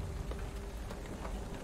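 Steady rain falls in the roguelike game Curse of the Dead Gods, a soft, even patter on surfaces with scattered drop sounds and no speech.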